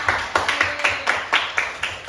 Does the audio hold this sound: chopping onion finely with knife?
no